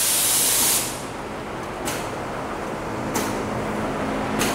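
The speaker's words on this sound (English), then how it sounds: "Any other resin gun would have had your camera already full of resin, full of overspray." A resin spray gun sprays resin onto a boat transom during a powerboat restoration, a loud hissing burst at first followed by several short, sharp spray pulses.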